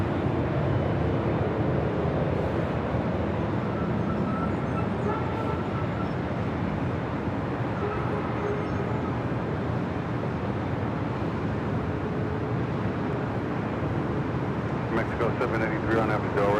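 A Boeing 787-9 Dreamliner rolls along the runway at LAX, a broad, steady, distant roar that holds evenly throughout, with a commentator's voice over it.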